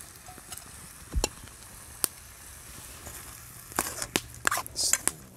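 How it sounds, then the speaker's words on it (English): Steak and veggies frying in a pan at an overnight camp, giving a low steady sizzle with scattered scrapes and clinks as it is stirred, louder bursts of stirring near the end. "I add a little bit of Haiti spice to it. I'll give it another stir, see how it's looking."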